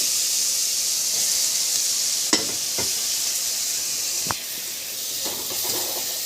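Colored bell peppers briefly sautéed with onions in a pan give a steady close sizzle and hiss, broken by a few sharp stirring clicks and scrapes, with no talking.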